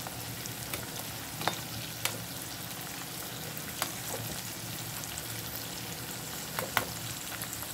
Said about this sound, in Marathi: अजून आपल्याला 5 मिनिटे लागतील आपली मिरची छानशी तळून होण्यासाठी.